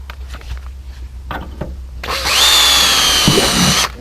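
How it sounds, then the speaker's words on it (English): A power drill boring a hole through a fiberglass aircraft cowling held in a jig, with a few light handling taps and knocks before a loud, steady high-pitched whine cuts through the material for roughly two seconds. "Drill the other hole."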